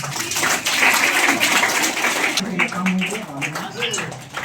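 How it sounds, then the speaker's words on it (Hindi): An audience claps loudly in a dense burst to welcome schoolgirls arriving to sing a welcome song at a school event, with voices talking over the applause as it continues. "कृपया जोरदार तालियों से उनका स्वागत करें।"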